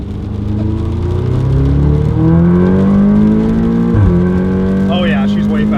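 An Audi TT S MK2 (8J) with an upgraded fuel system accelerates hard, its engine note climbing steadily in pitch, dropping briefly at a gear change, then pulling again. The engine is loud and close, heard from inside the car.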